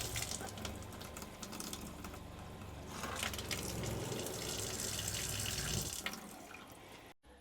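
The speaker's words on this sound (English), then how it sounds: "you'll see that just turning on the faucet" A faucet in a solar-powered camper van kitchen runs steadily as an electric water pump kicks on automatically to feed it, a continuous close rushing stream with pump hum that cuts off near the end.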